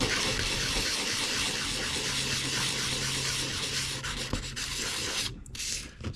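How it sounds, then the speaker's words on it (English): Steady, close rasping as 220-grit sandpaper is rubbed in circles on a Kyosho 1/8 scale differential part, the scratchy friction continuous for several seconds before easing off. "I take some 220 sandpaper and just kind of do circles"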